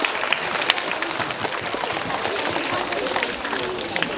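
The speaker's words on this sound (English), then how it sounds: "Let's give a round of applause" Elementary schoolchildren clap for young volunteers called up front during a school visit, a dense, even patter of many small hands filling the room, with faint voices in the crowd.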